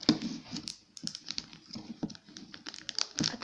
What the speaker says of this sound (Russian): Давайте для начала откроем этот киндер.